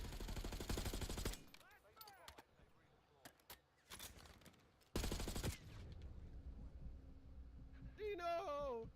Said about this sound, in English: You need to put covering fire.